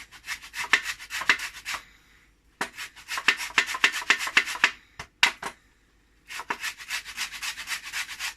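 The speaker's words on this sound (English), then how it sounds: "I'm going to put the zest of the lemon in here" Lemon zest rubbed against a grater in a home kitchen, rapid scratchy rasping strokes in bursts separated by short pauses, close and clear with no talking.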